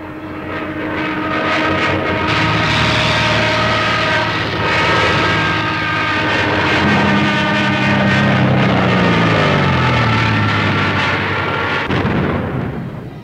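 Fighter aircraft engines drone loudly overhead in 1943 air combat over the Battle of Orel, one rising and falling in pitch as it dives past, with heavy rumbling and bursts of gunfire mixed in.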